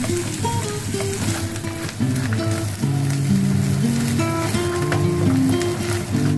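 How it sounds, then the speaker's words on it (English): Onion, garlic, ginger and green chilli frying in a pan for an egg-filled brinjal fry, giving a continuous, fairly loud sizzle under steady background music, with no voices. "Onion, garlic, ginger and green chilli fry done."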